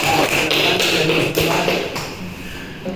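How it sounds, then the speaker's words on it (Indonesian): A classroom claps for a student's presentation: a dense burst of scattered hand claps from many pupils that slowly thins out over a few seconds. "aplaus untuk teman kalian"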